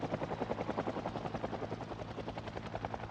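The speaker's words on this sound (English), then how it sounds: "This helicopter is in... So all helicopters will show up where your character is." Helicopter in the video game Project Zomboid flies overhead, a steady rhythmic rotor thumping with a broad whooshing wash that holds fairly constant throughout.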